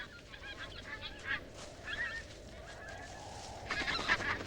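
White-fronted geese honk on their tundra nesting grounds, a flock giving repeated nasal calls at a moderate distance, with a louder burst of overlapping honks near the end over a soft background hiss.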